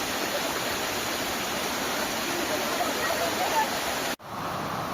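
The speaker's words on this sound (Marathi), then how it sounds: "नुसते धबधबे. किती ते पाणी." Heavy monsoon rainfall and rushing waterfalls in Raigad make a loud, steady wash of broadband water noise that stays dense and unbroken. Near the end it cuts out abruptly, leaving a quieter hiss.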